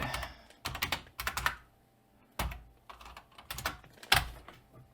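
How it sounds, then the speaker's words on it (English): Fast typing clatters on a loud computer keyboard during a PC build livestream, in close, dense bursts of keystrokes separated by brief pauses. "I think the louder the keyboard, the better for streaming"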